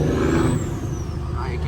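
A classic Peterbilt 379 truck downshifts close by, its engine note dropping and surging with a loud diesel rumble and a hiss, while a voice exclaims over it.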